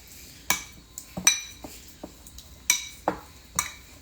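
A utensil mashing chopped herbs into softened butter for a seafood compound butter, giving a few light taps and scrapes against a bowl with short pauses between them.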